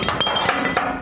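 A hammer strikes part of a Chevy S10 frame, giving a series of sharp metallic knocks, roughly five or six close, ringing hits in quick succession.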